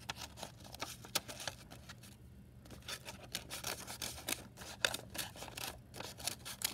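Cardboard mask being cut with scissors, a quiet run of short crisp snips and scrapes with a brief pause midway, close and alone.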